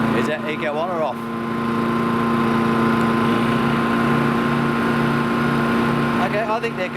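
Honda EU20i and Yamaha EF2400iS inverter generators run side by side with a steady, even engine hum throughout, while people talk briefly at the start and end.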